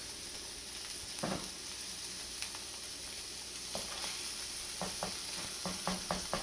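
Vegetables sizzle steadily in a pan for a breakfast with eggs, with a few sharp clatters as they are tossed and stirred, the frying hiss continuous underneath and no talking.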